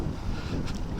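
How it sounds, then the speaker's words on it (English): Strong wind buffets a microphone outdoors on a dark, stormy day as a continuous, close, rumbling roar. "it is very windy"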